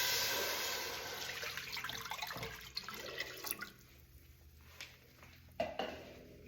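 Water poured into a pot on a medium-high stove for cooking rice makes a soft, steady splashing that tapers to scattered drips and small clinks, faint and close in a quiet kitchen.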